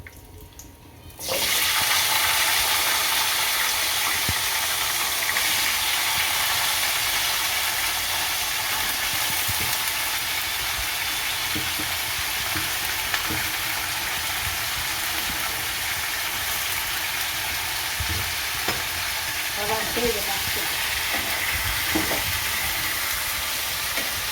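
Potato chips fry with cumin in a pan, a loud, dense, continuous sizzle that starts abruptly after a moment of quiet and carries on unbroken, with faint scraping stirs.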